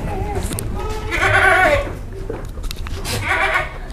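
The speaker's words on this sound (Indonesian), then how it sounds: "Kambing kayak gini, kambing kurbanan." Jumbo sacrificial goats at a livestock market in Central Java bleat loudly up close, two strained calls a couple of seconds apart, over a busy background of murmured talk.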